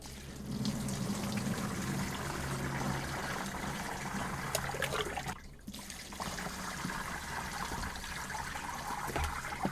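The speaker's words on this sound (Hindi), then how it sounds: "इन मिर्चों को 4 से 5 बार अच्छे से धो लेंगे।" Softened green chillies, soaked in buttermilk for pickle, are washed in water, giving a continuous swishing, trickling and splashing that runs throughout with a brief dip near the middle.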